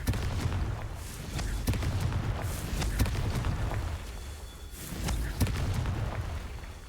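Confringo, a fiery explosion spell in Hogwarts Legacy, goes off in a string of sharp booms and blasts, each impact followed by crackling rumble, with a dense, loud, continuous battle-like roar between hits.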